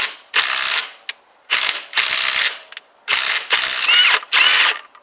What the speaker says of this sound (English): I'm fairly convinced that this stator bolt has got to come off as well.